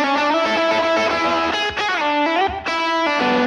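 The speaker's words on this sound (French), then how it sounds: "I go for kind of a cranked Fender thinner combo tone on this." Electric guitar played through a Fractal Audio Axe-FX Ultra set for a cranked Fender combo tone, loud sustained distorted notes and chords with slap delay and reverb, phrases changing every second or so, with no voices.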